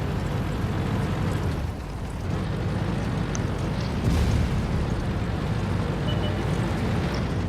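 A tank explodes after being destroyed in a tank battle video game, a dense, continuous low rumbling roar that fills the whole stretch at steady loudness with no talk.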